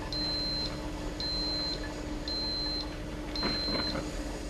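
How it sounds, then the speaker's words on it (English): A Cuisinart Burr Grind & Brew 12-cup coffeemaker sounds a series of evenly spaced electronic beeps at the end of brewing, faint and clean over a soft room hum. "When the brewing cycle is completed, 5 beeps will sound."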